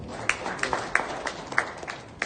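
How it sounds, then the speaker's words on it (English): Scattered applause from an audience honoring a Permanent Secretary of the Ministry of Finance, sparse separate claps at moderate distance, fairly quiet and thin. "Please, can you give him a round of applause?"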